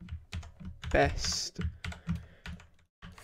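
A computer keyboard is struck in quick bursts of close key clicks as a Fallout 4 mod name is typed, with a few short pauses and someone talking briefly over the typing.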